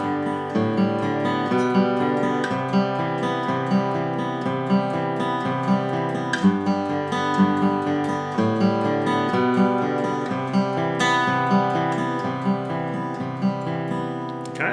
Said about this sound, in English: what is meant by the term is that I'll be walking up the notes of the scale